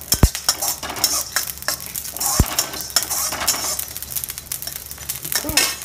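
Shahi jeera and spices fry in a pan with a busy crackling sizzle while a metal spoon clatters and scrapes against the pan repeatedly, loud and near, with a few sharp knocks and no talking.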